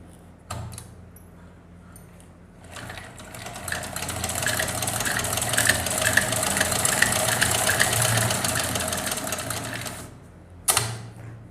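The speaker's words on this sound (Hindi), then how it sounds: "अब हम इस कपड़े पे चला के देखेंगे कैसे चल रही है मशीन।" An old shuttle-type sewing machine, roughly twenty years old and freshly repaired, stitches through cloth in a steady rapid mechanical whir lasting several seconds, with a short clack before and after.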